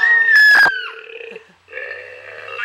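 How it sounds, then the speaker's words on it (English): A toy called an Ugglys gives a drawn-out, gurgling burp when its mouth is opened. The burp is loud and close, with a short harsh burst in the middle, and then a rougher second belch follows after a brief pause. "When you open the mouth, it will burp!"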